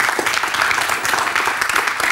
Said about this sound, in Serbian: jedan veliki aplauz za njega, dobrodošao.